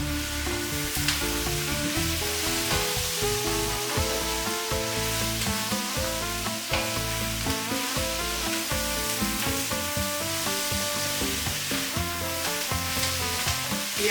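Green and red peppers fry in a pan with a constant, dense sizzle and crackle that carries on steadily throughout, close and fairly loud, with no talking.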